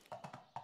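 Magical horse in the Bandit Brawler video game, with a few quick clip-clop hoofbeats and a short whinny-like call, close and fairly quiet, no talking.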